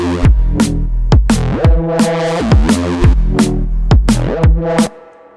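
Drum pattern built in Phase Plant, with punchy offbeat kicks in slight variation alongside pitched tonal hits, loud and rhythmic, ending abruptly.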